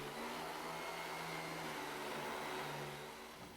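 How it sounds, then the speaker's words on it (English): A vacuum cleaner runs with a steady, even whooshing drone, used to soothe a baby, heard faintly and unchanging throughout with no voices. "Try a vacuum cleaner."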